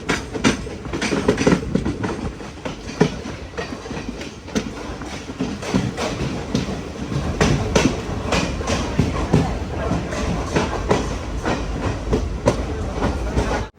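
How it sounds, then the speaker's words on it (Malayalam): Palaruvi Express pulling into Ottapalam railway station, with a loud, continuous rumble and rapid clickety-clack of wheels on rails throughout, heavy and close. "ഒറ്റപ്പാലം റെയിൽവേ സ്റ്റേഷനിലേക്ക് ഇതാ നമ്മുടെ ട്രെയിൻ എത്തിക്കൊണ്ടിരിക്കുകയാണ്."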